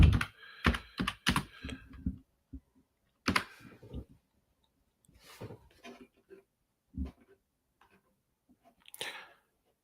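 Typing on a computer keyboard, close and clear: a quick burst of clacking keystrokes, then scattered single taps and short clusters separated by quiet pauses.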